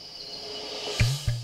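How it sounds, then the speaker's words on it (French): Millions of crickets kept in stacked crates at an insect farm produce a continuous high, shimmering chirr, with a couple of short low thumps near the end. "Des grillons. Et il y en a des millions."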